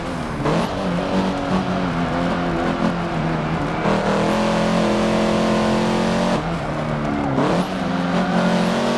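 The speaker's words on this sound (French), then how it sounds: "Donc une Civic qui se conduit assez bien," A Honda Civic engine drones loudly and continuously during a race in Forza 7, its pitch rising and dipping with gear changes and revving, with no voices over it.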